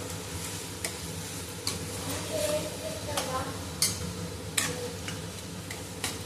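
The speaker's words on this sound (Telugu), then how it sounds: "ఆనియన్స్ ఫ్రై అవుతున్నాయి కదా" Onions with green chillies frying in a pan for a vegetable curry, with a steady soft sizzle and scattered clicks of a spoon stirring against the pan throughout.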